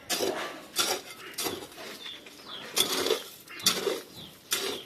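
A young mason mixing cement mortar with a trowel, a series of scraping, clinking strokes in an uneven rhythm, close by, with faint background sounds between strokes.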